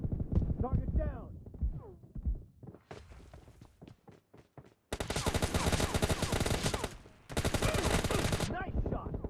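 Gunshots in the mobile game PUBG Mobile Lite, with sparse single shots followed by two long, loud stretches of rapid automatic fire, close and harsh, with brief game voice lines in between.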